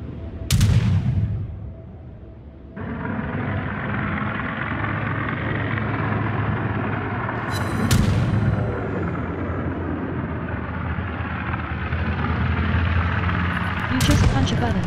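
Warship naval guns in a naval battle video game fire a few heavy booms, one early and others spaced several seconds apart, over a constant engine-like rumble, with someone talking.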